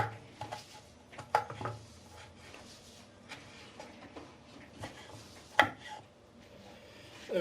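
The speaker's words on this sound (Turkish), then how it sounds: "Bunları güzelce iç içe doğruyorum" A knife taps and knocks faintly and irregularly on a board while chopping onions, lamb tail fat and garlic together for liver kebab, with a few sharper clacks.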